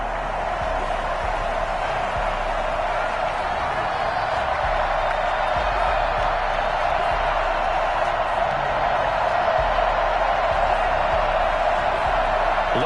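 Steady, dense roar of an NFL stadium crowd at a Green Bay Packers versus New York Jets game, a continuous wash of distant voices and murmur with no distinct cheers standing out, filling the whole stretch.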